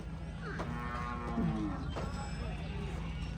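Cattle moo repeatedly at a cattle and buffalo market in Khok Charoen, the drawn-out calls rising over a steady murmur of market noise and distant activity.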